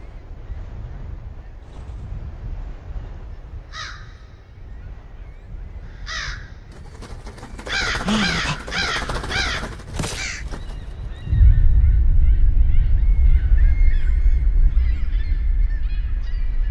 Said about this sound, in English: Bird's going mental again somewhere.